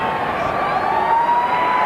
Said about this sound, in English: Siren in the background.